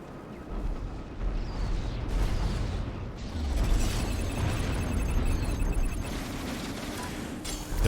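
Torpedoes launching and exploding in the space combat game Strike Suit Zero, a dense stretch of rumbling booms and bursts layered with mechanical noise, loud and continuous throughout.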